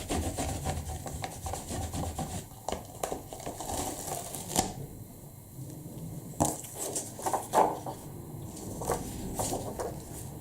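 A stamp being rubbed on an ink pad for a Christmas card craft, with repeated close scraping rubs in irregular strokes over a quiet room background.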